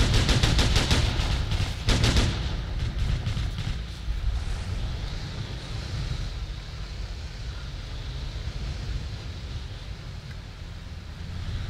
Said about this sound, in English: we're taking gunfire from somewhere